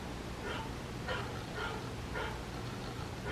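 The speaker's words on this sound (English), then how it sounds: "My son's alarm is going off." A son's alarm going off inside a house, sounding like a dog barking: four faint, evenly spaced bark-like yips over a low steady hum.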